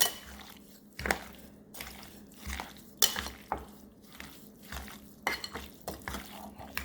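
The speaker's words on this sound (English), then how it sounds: "you're going to get your tongs and you're going to mix all this stuff up" Metal tongs toss Cajun chicken, sausage and shrimp pasta in a pan, giving irregular clanks and scrapes against the cookware, with soft stirring noise between the knocks.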